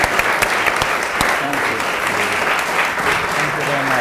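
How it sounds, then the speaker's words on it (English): A theatre audience gives sustained applause for Peter Katona, a dense, steady wash of clapping from a large crowd, with faint voices underneath. "Please, a huge round of applause for Peter Katona."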